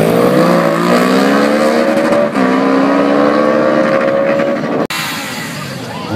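Loud, sustained engine roar of VMAX motorcycles at a race heat start, with pitch sweeps as throttles rise and fall, a brief dip partway through and an abrupt cut near the end.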